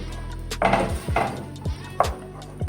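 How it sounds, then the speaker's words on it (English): Tomato paste and ingredients added to a cooking pan for butter chicken and stirred, giving a few close knocks and scrapes of a utensil against the pan in an uneven rhythm. "Just gonna add that to my pan and mix it."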